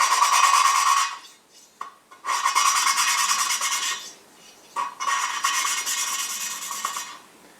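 Hand grinding on a Saab cylinder head, a loud, close, steady rasping rub in three long strokes separated by short pauses.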